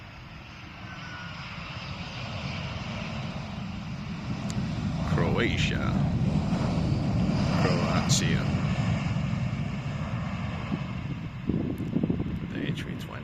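Embraer E175 airliner landing on the Polderbaan runway at Amsterdam, a sustained roaring jet engine rumble that swells and holds steady as the plane passes, with a person talking briefly over it.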